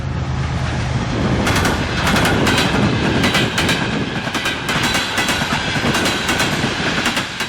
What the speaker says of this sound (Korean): 러시아 블라디보스톡에서 중앙아시아 내륙을 향해 달리는 시베리아 횡단 열차